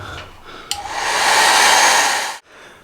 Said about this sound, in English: so I have a hairdryer and I'm going to dry them off